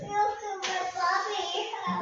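Two quick hand claps in a pilates class, a sharp near double smack standing out against faint room sound and shuffling.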